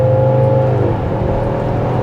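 A car engine strains at high revs under full acceleration toward the redline, a loud continuous drone with a steady tone and faint rising whine, heard from inside without talk.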